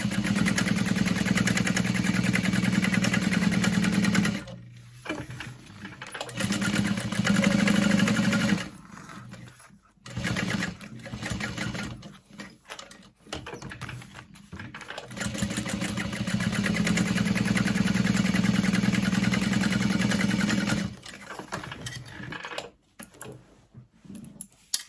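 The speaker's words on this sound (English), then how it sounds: "You top stitch across the whole thing" A sewing machine runs long stretches of top stitching across a fabric tote bag, a loud, close, steady mechanical whir that stops and restarts several times with short pauses between runs.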